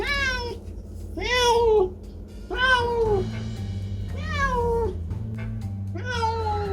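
A cat meows repeatedly, five drawn-out rising and falling cries, loud and close over a low steady hum.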